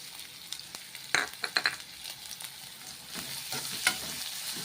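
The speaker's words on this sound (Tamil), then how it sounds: "பூண்டும் வெங்காயம் பச்சை மிளகாய் நல்லா வதங்கட்டும்" Chopped garlic, onion and green chili sauté in oil in a pan for a spinach masiyal, giving a steady close sizzle broken by bursts of spoon-stirring scrapes and clinks, with no talking.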